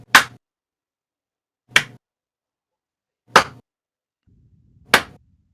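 A game master imitates claps with four sharp, isolated smacks spaced about a second and a half apart, standing in for scattered applause from a theatre crowd after a play, with a faint low murmur near the last one.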